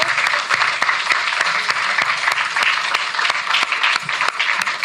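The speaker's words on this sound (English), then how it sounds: "Please join me again in giving a round of applause to the Honourable Ms. Hazel Simmons-McDonald" Audience applause at a memorial lecture, a dense, steady clapping from a large crowd that continues evenly throughout with no break.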